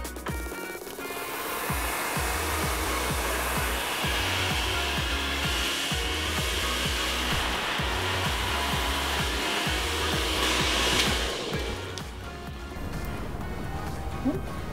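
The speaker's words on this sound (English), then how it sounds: "I'm gonna blow dry a little bit just to get the root direction going straight back." A hair dryer blows hair straight back at the roots during a sleek straight styling, a loud, steady whooshing motor drone running continuously close by, its airflow shifting slightly as it moves.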